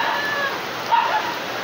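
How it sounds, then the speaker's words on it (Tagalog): Steady August rain falls in Davao, heard as an even, continuous hiss with no pauses and no other clear sounds. "It's raining in Davao."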